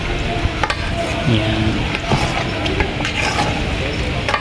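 Boiling shrimp paste (bagoong alamang) is stirred in a pan with steady scraping and sizzling, and a voice speaks briefly over the cooking noise.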